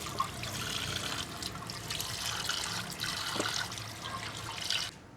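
Tap water runs and splashes steadily into a sink while pork is washed and cleaned, a soft close trickle with a few brief clatters.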